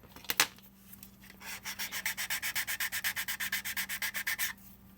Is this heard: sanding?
yes